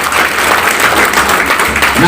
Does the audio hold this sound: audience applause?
yes